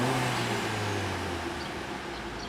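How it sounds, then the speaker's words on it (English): A 2012 Volkswagen Golf TSI SE engine held in park or neutral against its rev limiter near 4000 RPM, a loud sustained drone with a steady engine tone that eases slightly as it goes on. "While in park or neutral, this car does have a rev limiter at around 4000 RPM."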